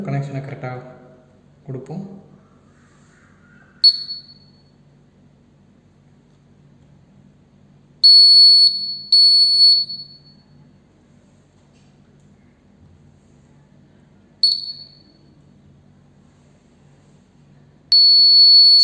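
An Arduino-driven piezo buzzer gives short, shrill electronic beeps in separate bursts: a brief chirp, a pair of longer tones, another chirp and a final sustained tone. Someone speaks between them.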